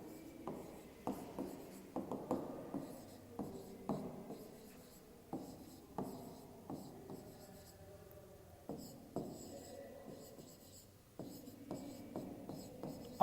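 Chalk or marker strokes on a classroom board during a Class 3 maths lesson on length measurement, soft repeated taps and short scratches in uneven bursts, faint and close, with no talking.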